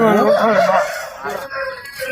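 Chickens cluck and squawk loudly close by at a market in Kunnathur, Tiruppur, a drawn-out call followed by softer clucking in a noisy setting.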